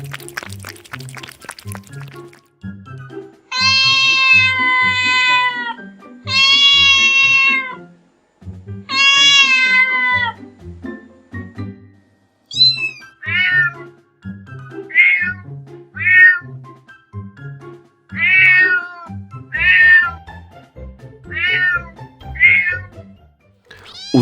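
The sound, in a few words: cat meowing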